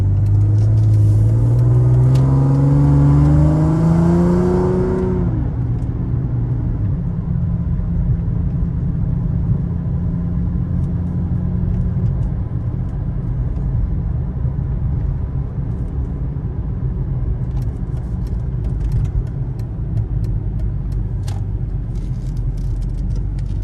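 A 2003 Mercedes-Benz C32 AMG with a Kleemann-tuned supercharged engine accelerates hard, its rising engine note and whine climbing for several seconds before settling into a steady, rumbling cruise heard from inside the car.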